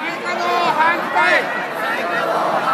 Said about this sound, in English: people are piping mad. Much more vocal than I noticed last time